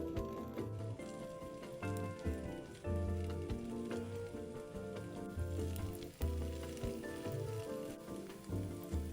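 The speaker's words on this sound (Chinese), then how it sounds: "中小火慢煎" Meat pie dough pressed into a thick patty sizzles steadily in oil in a flat pan over medium-low heat, a dense crackling hiss running throughout with light clatter, loud and close, no voices.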